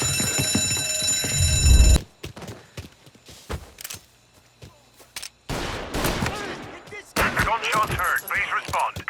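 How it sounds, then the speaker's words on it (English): An alarm in the video game Mafia Definitive Edition rings loud and continuous for about two seconds, then cuts off abruptly, followed by sparse sharp bangs, voices and noisy activity. "Ed è collegato all'allarme!"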